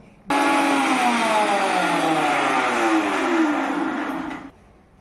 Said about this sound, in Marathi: हे पुदिन्याचं पाणी आता मिक्सरमध्ये आपण फिरवून घेऊ.